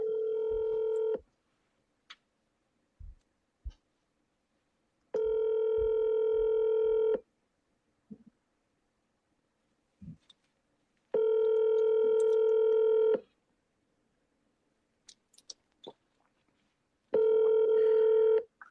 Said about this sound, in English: Rick, you should talk about your prank calls with Todd back in the day